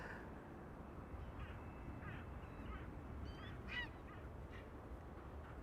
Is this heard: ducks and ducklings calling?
yes